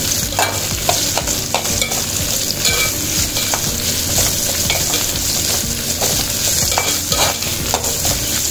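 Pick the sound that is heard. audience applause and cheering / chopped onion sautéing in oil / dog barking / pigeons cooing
chopped onion sautéing in oil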